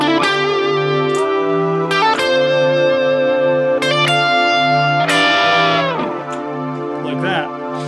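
An electric guitar strums chords and picks notes over a sustained low synth drone, without strings or organ, with strong sharp attacks every couple of seconds.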